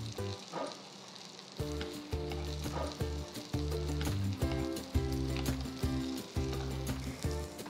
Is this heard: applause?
no